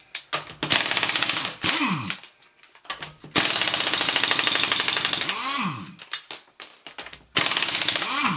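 A ratchet fitted with a 17 mm socket works a suspension bolt loose on a Mercedes during lower front control arm replacement, giving rapid buzzy clicking bursts, close and loud, separated by short pauses with a few softer clicks.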